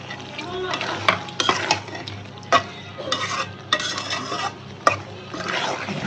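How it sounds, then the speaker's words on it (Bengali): Tengra fish with tomatoes is stir-fried in a pan, with bursts of sizzling and frying and sharp scraping knocks of a spatula against the pan, close and busy, no voices. "তারপরে সুন্দর করে কষানো হয়ে গেছে মাছটা"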